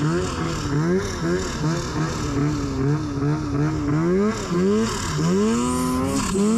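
A snowmobile engine labours up a steep slope through deep snow, its pitch rising and falling in repeated revving surges, loud and close, with a voice talking over it.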